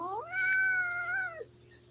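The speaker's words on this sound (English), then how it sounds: "You're meowing at Rudy?" A cat gives one drawn-out meow, close and fairly loud, rising then holding steady before trailing off into quiet room tone.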